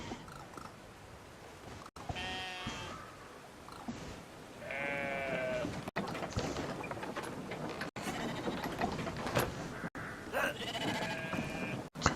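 Sheep bleating in the video game Brothers: A Tale of Two Sons, several wavering bleats at moderate loudness spread across the clip over a steady game ambience, with no one talking.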